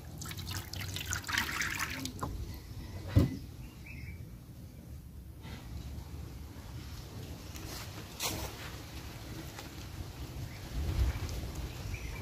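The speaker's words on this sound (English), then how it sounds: "I'll add some water on the plate." Water poured onto a plate while preparing bread, faint trickling and dripping with a few soft splashes, quiet and close.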